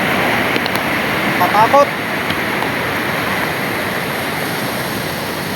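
A swollen river in Barangay Malapaaw rushes after a night of continuous rain, giving a steady, broad roar that fills the whole clip. A voice briefly exclaims early on.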